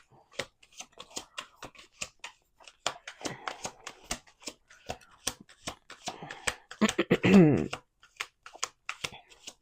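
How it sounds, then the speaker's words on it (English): Playing cards are shuffled in repeated quick riffles and bursts of flicking, close to the microphone, with a louder riffle near the end and brief quiet gaps between. "Let's do 2 more shuffles."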